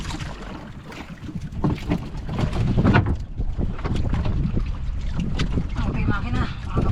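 A boat engine drones steadily on open water, wind buffeting the microphone over the low rumble while people talk intermittently.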